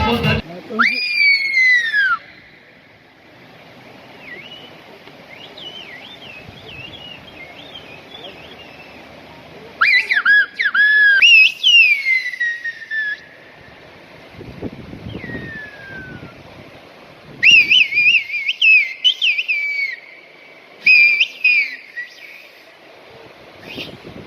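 Loud, sharp Turkish whistled-language phrases with sliding pitches come in bursts separated by quieter gaps, with faint wind noise between them, at a whistled language festival.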